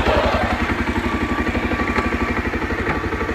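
A 2024 Bajaj Pulsar 125 cc motorcycle engine runs steadily close by, with an even, rapid chugging pulse and mechanical clatter throughout.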